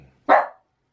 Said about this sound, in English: she's barking all morning today